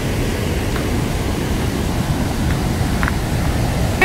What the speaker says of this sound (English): Here's the top of the waterfall,